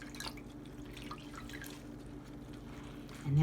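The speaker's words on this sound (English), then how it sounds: "I just wad it up and put some more water on it and wring it out" Water drips and trickles as wadded, soaked paper is wrung out by hand, a steady, close patter of drops at low level, ending with a brief louder thump and no speech.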